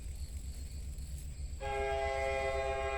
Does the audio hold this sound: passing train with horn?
yes